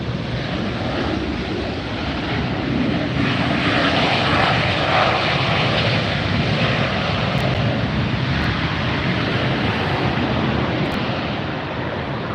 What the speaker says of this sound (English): You got to see an Emirates A380